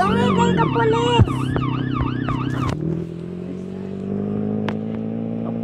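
Police siren in the Roblox game Brookhaven RP, a loud wailing up-and-down tone that shifts pattern midway and settles into a steadier drone with engine rumble underneath.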